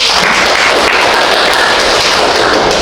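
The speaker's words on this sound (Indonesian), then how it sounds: "beri tepuk tangan dulu untuk kelompok 1" A burst of steady clapping from a classroom group fills the room, dense and loud, continuing without pause.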